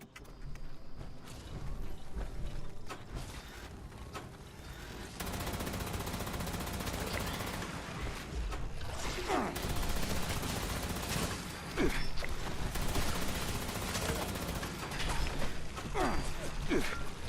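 Enemy gunfire in Fallout 76, sustained rapid bursts of shots crackling over a steady game soundscape, growing denser and louder toward the end.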